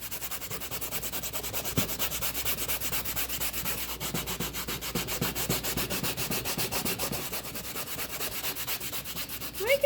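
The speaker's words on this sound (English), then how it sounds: "We're going to get down and start scrubbing it." Norwex cleaning paste is worked into a trash can with a steady, rapid back-and-forth scrubbing, a close, gritty rubbing that continues without a break and ends in a few knocks.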